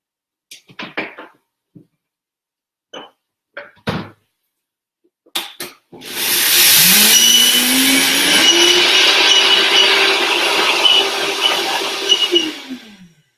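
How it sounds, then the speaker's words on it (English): After a few short clatters, a Vitamix blender blending sunflower pate roars to life and runs loudly at high speed for several seconds, its pitch rising as it spins up. "I'm going to use the Pate mix right now, my blender, to blend these up."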